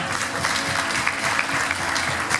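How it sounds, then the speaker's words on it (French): Festival audience clapping for a speaker's mother during an interview, a full, steady round of applause that carries evenly from start to finish. "On peut l'applaudir."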